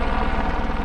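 A helicopter out over Saddleback Mountain, its rotor beating in a steady, rapid chop with a low engine drone underneath, fairly loud and continuous, with no voices.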